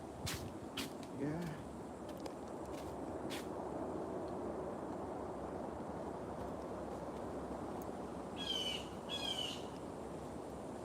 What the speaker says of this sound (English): Oh, you hear the bird?